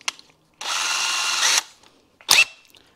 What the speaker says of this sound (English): you pick a small bit and you drill all the way through the screw